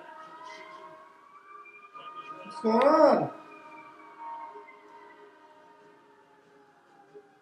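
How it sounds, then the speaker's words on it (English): Distant sirens wail steadily in the background, with a voice briefly speaking over them midway. "you hear the sirens"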